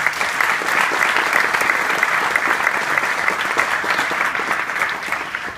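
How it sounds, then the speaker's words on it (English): Sustained round of applause from a conference audience, a dense steady wash of many hands clapping at even loudness throughout with no voices standing out. "Let's give them a round of applause."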